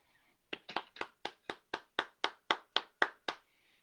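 A single person claps hands at a live poetry reading, about eleven sharp, evenly spaced claps close to the microphone, alone with no other applause or talk.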